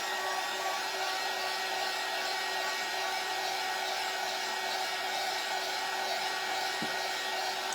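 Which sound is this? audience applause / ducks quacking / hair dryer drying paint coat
hair dryer drying paint coat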